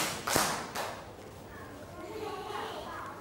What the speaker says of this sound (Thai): กลุ่มที่2ปรบมือ2ครั้ง